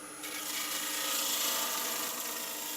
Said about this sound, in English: Then the parting tool sharpened at an angle.